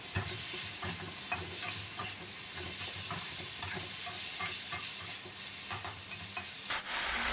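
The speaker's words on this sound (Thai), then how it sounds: "ผัดต่ออีกสักเล็กน้อยเพื่อให้ ต้นหอมมันสลดลงก็สามารถปิดแก๊สได้เลยครับ" Squid with spring onions stir-fried in a pan: a continuous loud sizzle with rapid, rhythmic spatula scrapes and tosses, close up and without speech, until the sound cuts off at the end.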